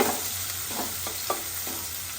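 Chopped onion fries in a pan with a steady, close sizzle throughout, while a spoon pushes it around in several soft, regular stirring strokes, no voices present.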